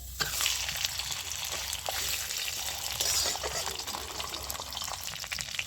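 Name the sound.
fish head frying in tempered oil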